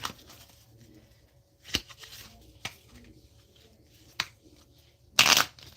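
Playing cards shuffled by hand on a film set, a few sharp riffling bursts separated by quiet pauses, the last burst the loudest and closest.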